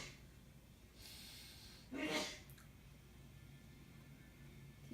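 A patient takes a deep breath during a lung exam, one soft breathy inhale and exhale rising briefly out of a quiet room.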